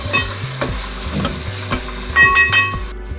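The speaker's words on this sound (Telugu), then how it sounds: "ఈ అల్లం వెల్లుల్లి పేస్ట్ కూడా పచ్చివాసన పోయే వరకు ఫ్రై చేసుకోవాలి." Ginger-garlic paste fries in a pan for a goat trotter curry, stirred with quick, regular scraping strokes over a close, steady sizzle, with no talking.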